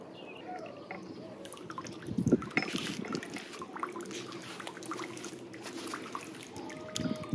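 Pool water from a DIY solar pool heater trickles and splashes steadily close by, with a few louder splashy bursts over a continuous watery wash.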